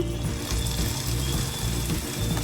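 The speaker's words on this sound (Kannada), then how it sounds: "ಇವಾಗ ಇದಕ್ಕೆ ಒಗ್ಗರಣೆ ಸೇರಿಸ್ಕೊಡೋಣ." Hot oggarane tempering poured into a pot of Malnad-style basale soppu sambar, giving a steady sizzling, bubbling hiss throughout at close range.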